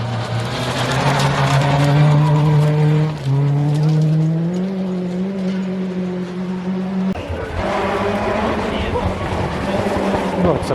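Mark II rally cars climb a hill through a hairpin at a snowy rally stage, engines loud and close, revving and dropping in pitch as they pass one after another.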